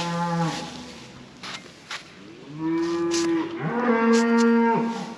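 Cattle mooing inside a shed, several long, loud calls close by, one after another with short pauses between, some overlapping, and no talk.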